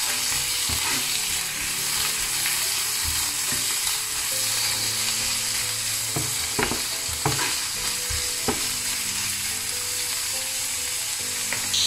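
Prawns sizzle steadily in hot oil with onion leaves as a spatula stirs and scrapes the pan in repeated clinks and scrapes, close and continuous for the whole stretch with no voices.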